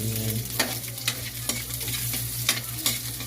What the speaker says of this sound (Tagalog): Ngayon po ay magluluto ako ng pansit.